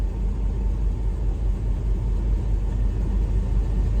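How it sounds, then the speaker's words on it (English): A Land Rover 90 with a V8 engine idles while warming up, a deep, steady low rumble that holds an even level throughout. "So I have just fired the engine up"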